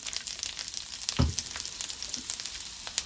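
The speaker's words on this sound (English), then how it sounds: "We're gonna add garlic and our vegetables" Garlic and mixed vegetables with chopped peeled tomatoes hit hot oil for a pasta sauce, giving a steady close sizzle with a brief louder burst as they land, no voices.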